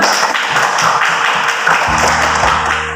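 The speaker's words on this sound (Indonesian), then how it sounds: "terima kasih tepuk tangan dulu" Students in a classroom clap together in a brief, dense burst of applause; low tonal hum and tapping appear near the end, with no clear talk over it.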